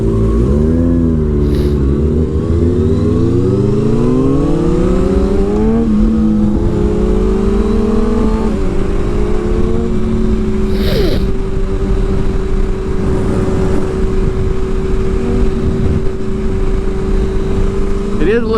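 A stock 2021 Kawasaki ZX6R with an M4 slip-on exhaust runs loud and close, its engine note sweeping upward as it revs and then settling into a steady high idle drone, with wind noise and a couple of faint clicks.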